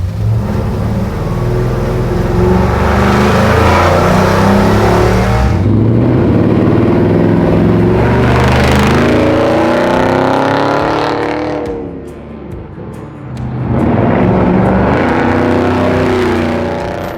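A 500-horsepower V8 in a restomodded 1959 Chevrolet Apache Fleetside truck roars hard under acceleration, loud and close, with rising revs, a brief lift around the middle, then another surge of engine noise.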